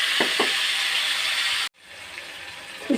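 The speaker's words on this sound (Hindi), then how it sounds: "ये जो मैंने मैरिनेट करके रखा हुआ था ना चिकन, तो ये अब इसके अंदर जाने लगा। ये अब इसको थोड़ा सा हम फ्राई करेंगे" Marinated chicken for karahi sizzles steadily in hot oil, a loud continuous frying hiss with a couple of soft knocks, cutting out briefly before resuming more quietly.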